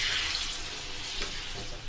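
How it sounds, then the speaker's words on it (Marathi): Half a glass of water pours into a hot pan of vegetables, a brief rushing splash and hiss that fills the short moment. "मी अर्धा ग्लास पाणी घालणार आहे।"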